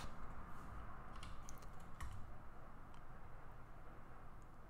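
Computer keyboard typing as a value is entered during modeling in Autodesk Fusion 360, a few faint key clicks scattered over a steady low background hum.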